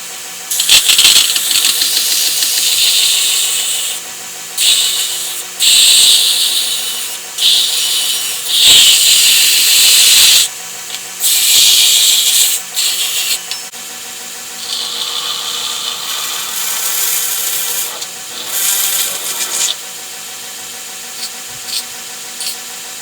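A power tool grinds and shapes the edges of a Kydex knife sheath in a workshop, its loud, harsh whine coming in repeated bursts of a few seconds each, broken by short pauses.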